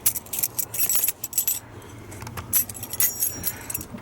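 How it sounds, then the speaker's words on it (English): A bunch of keys jangles and clinks repeatedly in bursts, close and fairly loud, as they are picked up near a 4BT Cummins engine before starting it. "Grab my keys."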